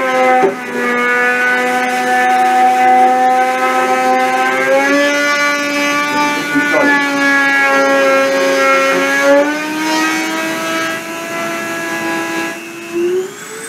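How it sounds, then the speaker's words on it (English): A CNC spindle runs during a deposition process, giving a steady, loud mechanical whine with strong tonal harmonics that shift slightly in pitch and climb near the end. "I'm going to start the spindle and start the deposition."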